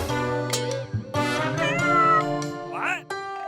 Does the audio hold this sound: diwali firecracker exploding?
no